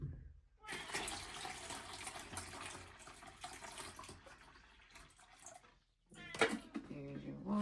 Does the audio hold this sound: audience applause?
no